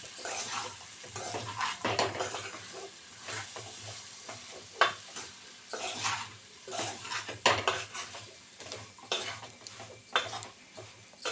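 Bitter gourd curry stirred in a pot, repeated clanks and scrapes of a metal spoon against the vessel over a soft sizzle, in uneven bursts close by.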